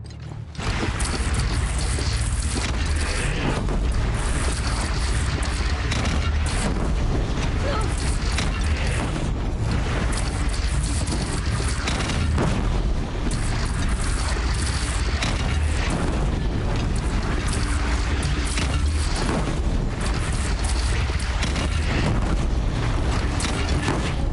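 Heavy cannon fire and booming blasts in a battle against a bandit clan in the game Horizon Zero Dawn, dense and loud throughout with crashing impacts over continuous rumbling noise.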